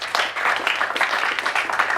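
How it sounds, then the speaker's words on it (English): Audience applause breaks out at a talk, a brief burst of steady clapping from a room of listeners lasting about two seconds. "give me a clap."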